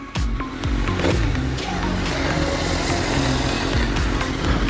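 A car on a race track, its engine roaring loudly and close with rising and falling revs as it drives past, steady and unbroken throughout.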